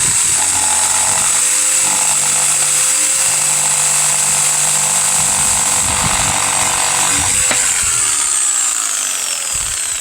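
A power saw cuts out a wooden sign, a steady high whine running continuously close by with a shift in pitch near the end.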